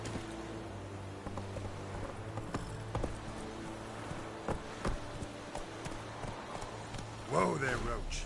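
The horse Roach trots in The Witcher video game, steady near hoofbeats clip-clopping over a low rumbling game ambience, with a voice near the end.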